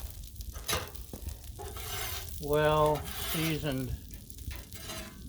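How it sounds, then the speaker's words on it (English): Gnocchi sizzle in butter on a Blackstone griddle, a steady frying hiss with brief scraping and stirring clatter, while a person talks briefly over it. "open this package of gnocchi and spread it around in the butter"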